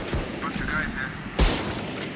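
Gunfire with heavy recoil in the game VALORANT, a few sharp shots with one loud blast near the middle, heard under a voice talking.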